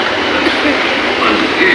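A Mumbai metro train gives off a steady, loud rumbling hum of rail travel, with a few faint higher squeals.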